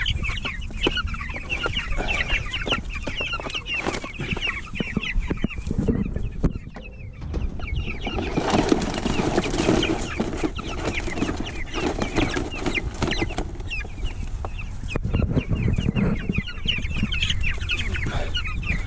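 Cornish hens clucking steadily throughout, a busy flock close by with overlapping calls and occasional louder squawks, no talking.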